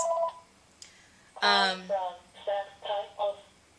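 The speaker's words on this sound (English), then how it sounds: "My phone's just going to ring. I'm just going to let it ring." A phone rings with a short electronic ringtone, several repeated tonal bursts close by and fairly loud, alone without talk.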